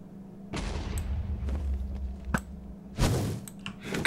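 Within a Minecraft game, an enemy fires at the player as a series of sharp blasts and thuds, with a low rumble in between and no talk.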